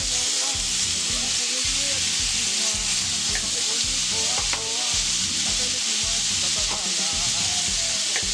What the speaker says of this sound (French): pour éviter que ça fasse de la mousse lors de la friture de mon bœuf.